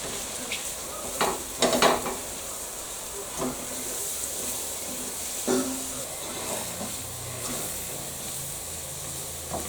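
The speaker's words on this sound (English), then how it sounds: "we're just going to make a roux now, which will give us that base for thickening it up and making a luscious sauce" Flour and fat being stirred into a roux for a crock-pot Swiss steak, a steady sizzling hiss with occasional scraping knocks of the spoon against the pan, no talking.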